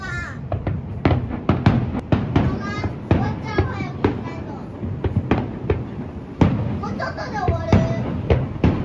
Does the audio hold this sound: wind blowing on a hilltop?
no